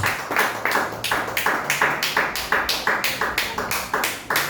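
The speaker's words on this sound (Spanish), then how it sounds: "Denle aplausos al Señor." A church congregation claps in a steady, fast rhythm for several seconds during a worship service, sharp repeated hand claps from many people at moderate distance, with no voices over them.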